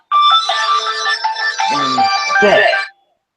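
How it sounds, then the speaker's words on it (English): Mobile phone ringtone sounding during a meeting, a loud melodic chiming tune of several notes that starts abruptly, carries on for about three seconds and then cuts off. "That's a phone ringing, my bad."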